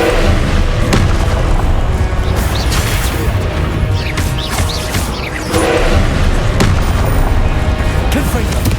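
Booming blasts of the Confringo explosion spell in the Hogwarts Legacy video game, several heavy crashes scattered through the clip amid a dense battle clamor of spell effects, with a voice speaking over it.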